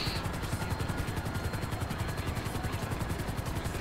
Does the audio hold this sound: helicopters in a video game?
yes